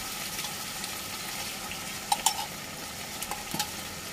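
Tilapia fish and celery being stir-fried gently in a pan: a soft, steady frying hiss with a few quiet scrapes and clinks of the spatula near the end, no voices.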